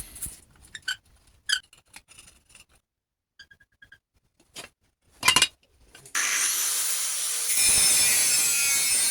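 Metal being cut away during frame repair on a Reliant Rialto: scattered light scrapes and taps at first, then a steady, loud, harsh cutting noise runs without a break through the last few seconds.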